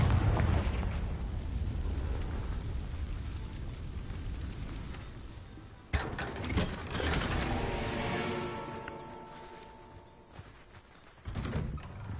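A Confringo spell explosion in Hogwarts Legacy: a rumbling blast with sharp bursts and pops, followed by ringing magical tones and a second burst near the end.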